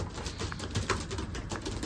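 Racing pigeons coo and rustle inside a loft, a soft repeated burbling against constant background noise.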